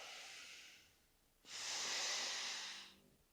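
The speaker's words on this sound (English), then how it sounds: "Deep inhale, deep exhale." One person breathes deeply, a soft airy inhale followed by a longer, louder exhale, close and quiet with no talking.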